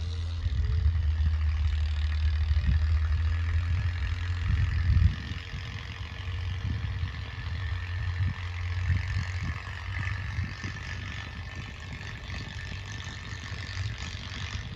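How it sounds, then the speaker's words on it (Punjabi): A low, chugging Mahindra 275 tractor engine idles nearby with a steady throb and occasional clatter, slightly quieter in the second half. "ਟਰੈਕਟਰ ਦੀ ਆਵਾਜ਼ ਸੁਣੋ"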